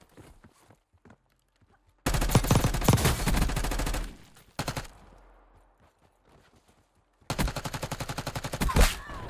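Gunfire crackles in a shooter video game in two loud bursts of rapid automatic fire, separated by a quieter stretch with a single short volley and faint background sounds.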